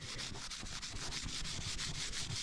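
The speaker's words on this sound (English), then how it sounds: "I'm just rubbing it until it feels smooth." An old part from an abandoned 1969 Suzuki TS250 motorcycle being rubbed smooth by hand, rapid regular back-and-forth scrubbing strokes, close and steady, with no talk.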